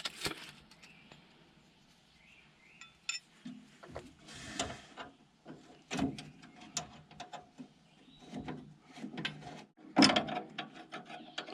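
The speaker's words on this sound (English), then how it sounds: "Tighten that adjuster up. Tighten this adjuster up." Ratchet clicking as track adjusters are tightened on a Cat D3B bulldozer during maintenance, with bursts of close, sharp clicks and mechanical clatter spread through the stretch, heard alone without talk.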